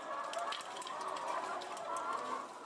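Chickens held in farm cages cluck and murmur continuously at moderate distance, with overlapping calls from many birds and no talk.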